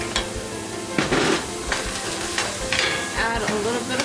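Onion and garlic sauté in a little olive oil in a pot for corn soup, a moderate sizzle broken by scraping stirs and a few metallic utensil knocks.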